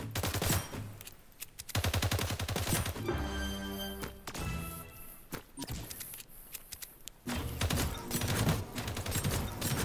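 Rapid bursts of video game gunfire crackle loudly and nearly nonstop, pausing briefly midway before resuming in dense automatic volleys, with no talk over them.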